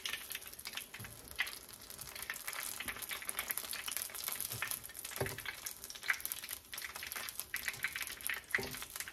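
Lumpia frying in hot oil on a stove that has just been switched off, a close, continuous crackling sizzle with scattered pops and the clink of pieces being stirred, no voices.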